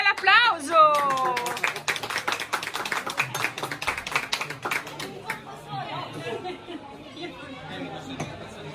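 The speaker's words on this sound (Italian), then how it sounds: "Un bel applauso!" A small crowd claps and chatters just after a bottle of Bersi Serlini Rosé sparkling wine is opened by sabrage, with a voice briefly at the start and lively talk continuing over the scattered clapping.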